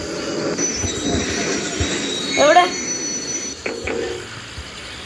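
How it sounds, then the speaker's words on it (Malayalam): A train stops in the horror video game Choo Choo Charles, with a rumbling rail drone and a sharp squeal of braking wheels midway, partly under a man's brief speech. "അപ്പൊ ഞാൻ ട്രെയിൻ സ്റ്റോപ്പ് ചെയ്യാം"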